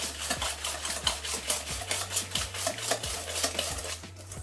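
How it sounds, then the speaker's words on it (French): A utensil stirs yeast and coconut into cake batter in a bowl, making rapid, rhythmic scraping and clinking strokes, close and moderately loud, with a low hum underneath. "on mélange."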